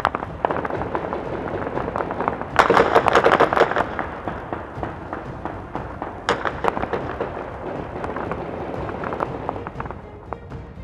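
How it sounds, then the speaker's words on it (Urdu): Celebratory gunfire in Kabul: rapid, irregular cracks and bursts of shots into the air, dense and loud, with a heavier cluster early on and scattered reports continuing throughout. "طالبان سپورٹر نے افغان دارالحکومت میں جشن مناتے ہوئے فضا میں زبردست فائرنگ کی"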